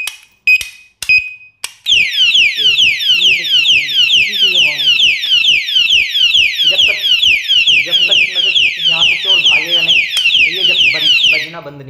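An anti-theft alarm lock gives a few sharp chirps, then a loud, continuous siren of rapid descending sweeps that repeats without pause.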